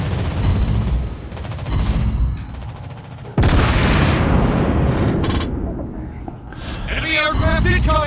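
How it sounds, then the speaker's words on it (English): Anti-aircraft guns on a Brooklyn-class cruiser in World of Warships Blitz fire in loud, sustained bursts of rapid booms and crackling gunfire, with a heavier blast midway and continuous battle noise throughout. "Anti-aircraft gun on full alert."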